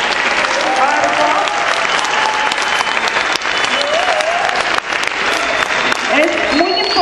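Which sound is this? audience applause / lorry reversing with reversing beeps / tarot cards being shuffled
audience applause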